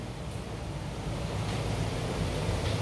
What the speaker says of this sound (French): Toutes les pannes bouillent.